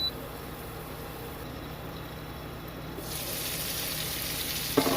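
Shrimp and vegetables with blackened seasoning cooking down in a pan, a faint, steady sizzling hiss that grows a little brighter partway through, ending with a brief clink.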